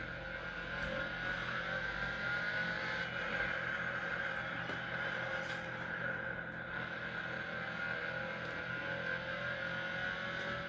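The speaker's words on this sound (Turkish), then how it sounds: "bu Forza'yı oynamak biraz e, tıra göre biraz daha zor arkadaşlar. Arabalar çok hızlı." Fast car driven in the Forza racing game with a steering wheel set, a steady engine drone and road noise running evenly and loud throughout, with no talk.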